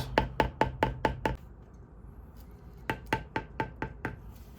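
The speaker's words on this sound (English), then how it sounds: "We're going to go through and we're going to start beveling all the flower petals." A metal beveling tool is struck in quick, rhythmic taps on leather flower petals for a custom wallet: a run of six sharp knocks, a pause, then another run of about six.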